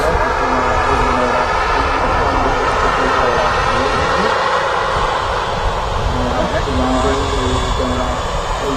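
EasyJet airliner taxiing at Manchester Airport, a loud continuous engine whine and roar holding steady throughout with no gaps.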